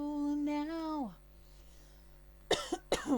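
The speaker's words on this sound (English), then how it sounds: "Sorry about my coughing." A woman coughs in a few sharp bursts close to the microphone, after a stretch of sung or spoken voice and a quiet pause.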